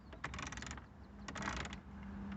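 The heat and ventilation controls in a Vauxhall Corsa E 1.4 give quiet mechanical clicks, a few short bursts of ratcheting taps from a dial against a faint low hum inside the car.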